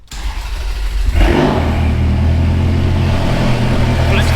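A Ferrari F430 converted to a manual gearbox cranks and fires up, then settles into a loud, steady, rumbling idle close by.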